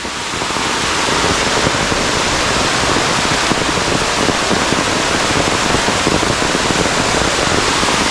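A spring in the Kokan jungle near a village pours out clean water in a steady, loud, continuous rush, close by, with no voices.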